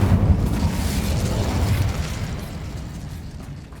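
An Incendio fire spell cast in Hogwarts Legacy combat: a loud, rumbling whoosh of flame that bursts at once and then roars steadily, fading slowly over several seconds with no voices.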